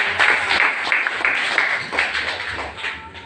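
Church congregation clapping together during a sermon, a dense, lively burst of handclaps from many people, close and fairly loud throughout.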